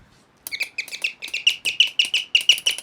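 A sparrow chirps in a hotel room, starting after a brief silence and then repeating sharp, high, evenly spaced chirps about three times a second, close and clear.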